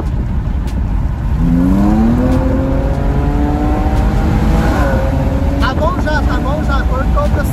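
A Jaguar F-Pace accelerating, its engine tone sweeping steadily upward in pitch through a gear and continuing over loud road and wind noise inside the moving car.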